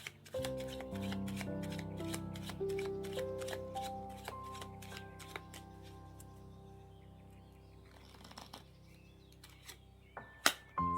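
Tarot cards shuffled and laid out on a table, giving a run of quick rapid flicks and riffles followed by a few louder slaps as cards land, heard close over soft background music.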